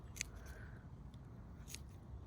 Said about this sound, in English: what is wrong with these scissors or snippers or whatever you call them?